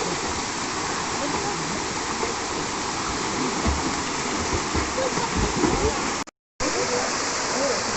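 Verna Spring waterfall in Loutolim, South Goa roars in a steady, dense rush of falling water, loud and continuous, with a brief dropout near the end.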